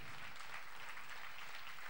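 A crowd claps steadily and continuously, a dense wash of applause with no voices standing out.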